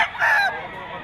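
A roundhead-bloodline gamecock at the Bocaue, Bulacan pet market gives a single short, honking squawk, near and fairly loud, with quiet market ambience around it.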